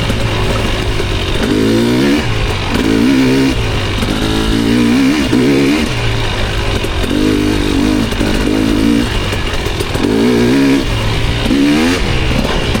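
A dirt bike engine is loud and close, revving repeatedly in surges that rise and fall over a constant droning idle.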